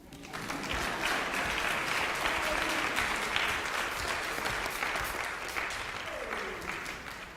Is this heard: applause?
yes